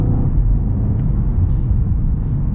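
A 2025 BMW M5 gives a deep, steady engine rumble from inside the cabin as it downshifts and pulls hard, a loud continuous low roar with no talking.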